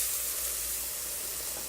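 Six and a half cups of boiling beef bouillon poured into a hot pot of onions for French onion soup, a loud, close, continuous hissing sizzle.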